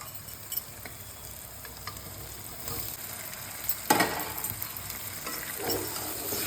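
Fried jackfruit and potatoes are stirred into a cooked tomato spice mix in a pan, a soft continuous sizzle with occasional scraping strokes of a spoon, one sharper clatter midway.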